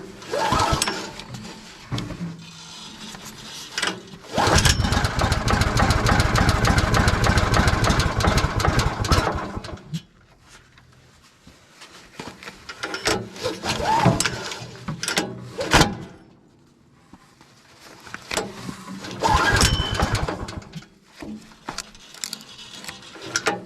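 Small gas engine on a sawmill sputters and catches after a choke start, running loud and steady for several seconds, then dropping and surging unevenly in bursts as it settles.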